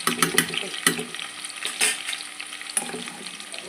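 Ginger garlic paste frying with onions in a pan for mutton curry, a steady sizzle broken by several sharp clinks and scrapes of stirring, close and fairly loud, with no talking.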